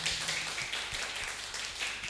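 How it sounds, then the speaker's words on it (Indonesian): Audience at a church service clapping for a couple's 25th anniversary, a brief patter of steady hand claps heard faint and somewhat distant. "mari kita berikan tepuk tangan karena ini adalah anniversary mereka"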